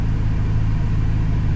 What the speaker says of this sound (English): First time in a flat plane crank engine car ever